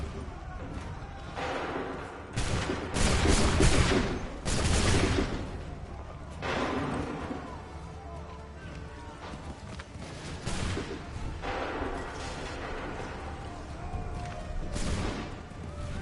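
Musket volleys from ranks of soldiers in Assassin's Creed 3 Remastered, several loud broadband bursts spaced a few seconds apart over a continuous battlefield din, with shouted commands and other voices in between.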